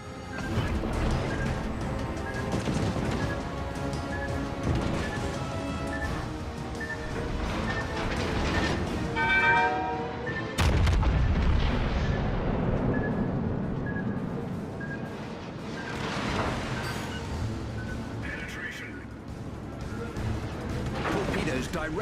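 Warship guns firing in World of Warships Legends, heavy booming salvos among loud battle noise, with a sharp blast near the middle and voice callouts throughout.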